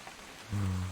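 Rainfall in the video game What Remains of Edith Finch, a soft steady hiss of drops, joined halfway through by a low droning tone, faint and without talk.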